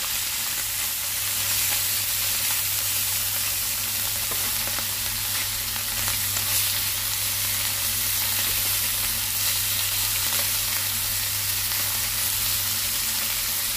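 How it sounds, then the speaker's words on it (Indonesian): Red fish fries in hot oil in a pan for a Hong Kong-style fish soup, giving a steady, dense sizzle and crackle that runs unbroken and fairly loud throughout. "Ini gorengnya"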